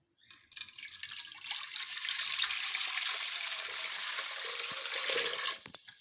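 About one and a half glasses of water pour into a pressure cooker while beef karahi is being prepared; a close, steady splashing stream runs for several seconds and then stops.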